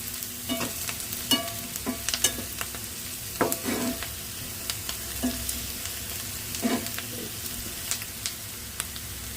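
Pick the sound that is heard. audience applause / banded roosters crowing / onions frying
onions frying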